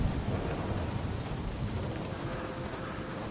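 A steady storm with heavy rain and wind roars continuously, with low rumbling thunder underneath, dense and enveloping throughout with no distinct breaks and no voices.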